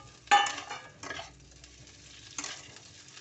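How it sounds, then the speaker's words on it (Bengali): Onions and capsicum stirred in a hot pan, two or three short bursts of sizzle and scraping separated by near-quiet gaps, close and soft. "পেঁয়াজ দিচ্ছি, পেঁয়াজটা একটু নেড়ে নেব। দিয়ে দেব ক্যাপসিকাম"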